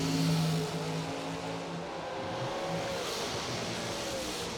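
Dragster racing cars at a drag strip roar from a distance, a loud engine drone that fades slightly and then holds a steady, rising whine.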